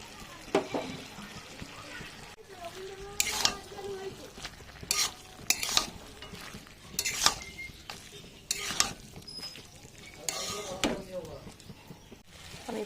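Ginger-cumin paste stirred into softened potatoes in a hot pan, with intermittent sizzling bursts, scraping and clinks of a utensil against the pan, fairly faint with some quiet background voice.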